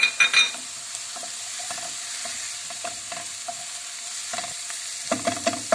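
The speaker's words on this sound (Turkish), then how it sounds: "Şimdi içerisine 2 adet doğradığımız yeşil biber ve 1 adet doğradığımız kapya biberlerimizi ekleyip kavurma işlemine devam ediyoruz." Onions, green peppers and red peppers sizzle softly in a pan while a utensil scrapes and taps through them in irregular bursts, with louder stirring clatter at the start and end.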